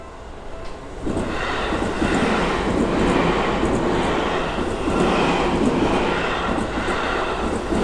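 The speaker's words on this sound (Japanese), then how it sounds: "電車が行ったので、線路を渡りましょう。" A train runs steadily past the Kami-Kusa station level crossing in Japan, a continuous broad rumble and rattle of rail cars that swells at about one second and holds loud to the end, with no talk.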